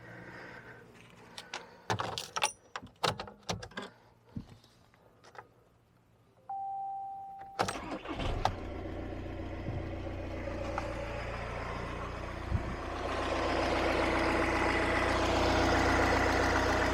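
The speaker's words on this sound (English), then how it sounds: "I think what we'll do is we'll just quickly start the car" A VW Passat B7 cranks and starts after some clicks and a brief chime, then settles into a steady, fairly quiet idle that grows slightly louder toward the end.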